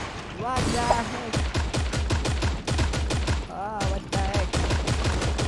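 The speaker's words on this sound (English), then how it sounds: "Gunshot." Rapid bursts of gunfire from the Creative Destruction video game crack in quick repeated volleys with short pauses between, loud and close, over game sounds.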